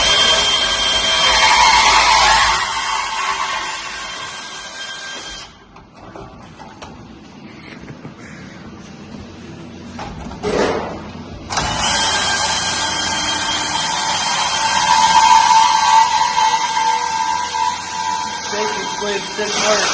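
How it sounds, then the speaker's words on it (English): A bandsaw cuts through the floor of an El Camino being built into a burnout car, giving a loud sustained grinding whine that drops out briefly mid-cut and then resumes. "This ElCamino comes with extra convenience of being able to fit the bandsaw in here nice and easy with the floor delete."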